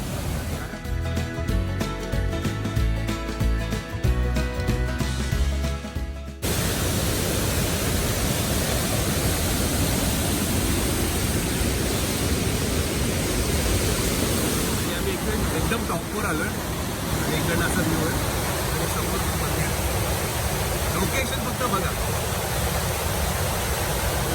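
Forceful water rushing at Dhutpapeshwar temple in Rajapur: after a short musical opening, a loud, continuous broadband roar fills the scene, near and unbroken.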